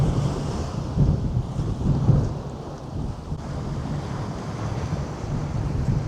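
Ocean surf rolls onto a quiet beach at Mui Ne in southern Vietnam, a broad rumbling wash that swells and recedes, mixed with gusty wind buffeting the microphone and no voices.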